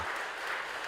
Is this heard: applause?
yes